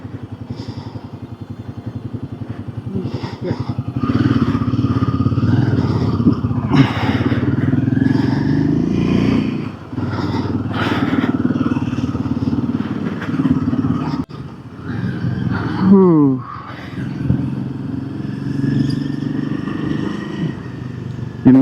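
A motorcycle carrying a pillion rider on the road from Leh to Pangong Lake, its engine droning steadily and loudly the whole way through, with rough clatter and a few brief surges, and no talk.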